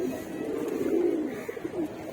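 Pigeons at a loft coo softly in a short, low, murmuring burst, close but quiet.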